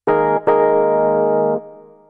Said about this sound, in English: So right now we have an e-piano, sounds like this.